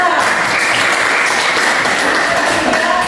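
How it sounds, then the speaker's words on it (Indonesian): Classroom applause for a student group after their presentation, dense continuous clapping that stays loud and even throughout, with no voices on top. "kita berikan aplaus untuk kelompok 2"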